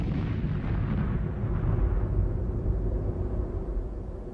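A missile full of volatile propellant explodes on its launch stand: a deep, rumbling roar with heavy low-end booming that slowly fades and muffles over a few seconds.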